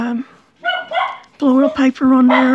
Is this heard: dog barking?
yes